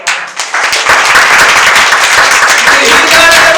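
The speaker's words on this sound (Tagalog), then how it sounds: "Palakpakan po natin ang Panginoon." A church congregation bursts into sustained clapping and applause at an online gospel worship service, loud and steady from near the start with a dense, busy texture throughout.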